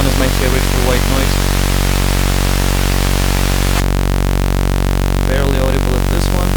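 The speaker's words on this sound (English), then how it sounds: "Let's try the other cutoff frequency. This one is my favorite for white noise." White noise runs through a synth filter set to a different cutoff, giving a loud, steady hiss whose bright top end drops away partway through, leaving a duller rush with faint muffled sounds underneath.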